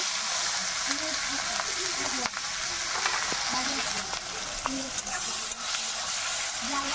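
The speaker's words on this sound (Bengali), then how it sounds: "পেঁয়াজ কুচি দিয়ে দেব" Chopped onion sizzles in hot oil with bay leaf, cloves, cinnamon and cardamom in a pan, a steady loud hiss with occasional stirring scrapes, while a voice speaks briefly over it.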